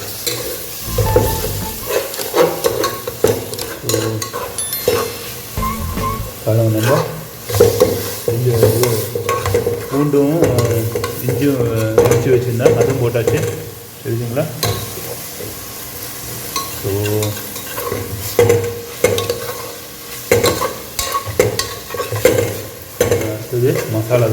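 Food sizzles and fries in a pan while a utensil stirs and scrapes it repeatedly, close and continuous throughout.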